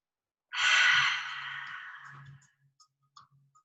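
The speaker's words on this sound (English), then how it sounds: "take a deep inhale through your nose. Deep exhale out of your mouth." A deep breath drawn in, then a long audible exhale through the mouth during a summer vinyasa yoga session, loud and close, trailing off into quiet with a few faint ticks.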